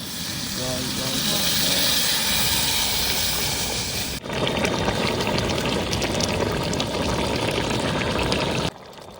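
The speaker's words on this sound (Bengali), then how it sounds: "জল দিয়ে দেবো" Water poured into a pan of frying cauliflower, peas and boiled potato curry: a loud hissing splash and rushing pour that settle into a steady bubbling sizzle, heard close up.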